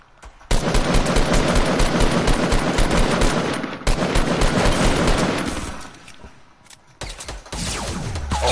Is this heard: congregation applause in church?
no